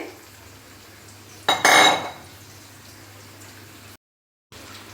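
A brief clatter and sizzle as meat drops into a metal wok on low heat, over a low background hum, followed by a short silence.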